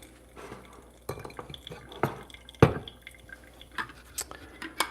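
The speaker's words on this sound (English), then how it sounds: "So first what we're gonna do is we are going to rinse paper, okay?" Hot water poured over a paper filter in a V60 pour-over dripper, rinsing it: scattered drips and splashes with a few sharp glassy clinks and knocks, close and fairly quiet, with no talking.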